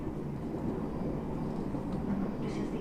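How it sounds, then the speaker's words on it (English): Steady low rumble and rattle inside an Osaka Loop Line train running in Japan, continuous and fairly close, with faint background chatter. "This is the Osaka Loop Line train to Nishikujo, Bentencho, and Tennoji."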